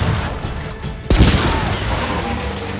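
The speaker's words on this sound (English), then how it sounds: "Oh, look! Point-blank shotgun." A shotgun fired at point-blank range in Gears of War 4, one loud close blast with a sharp onset and booming tail that rumbles over steady game ambience.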